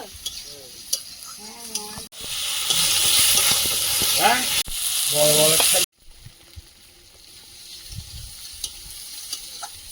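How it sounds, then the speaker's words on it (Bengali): Spice masala frying in a pan for a chicken curry sizzles and steams loudly in a burst that lasts a few seconds, with scraping stirs; a quieter background with occasional clatter comes before and after. "মশলা কষিয়ে নিয়েছি"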